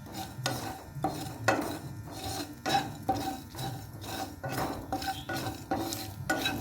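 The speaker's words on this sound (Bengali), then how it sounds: "কয়েকটা মৌরি ভেজে নিতে হবে একটু। গোটা এলাচ ভেজে নিতে হবে।" Fennel seeds and whole cardamom are dry-fried in a pan over low gas for Bengali malpoa, with a spoon repeatedly scraping and stirring in a steady rhythm, close up and with no talking.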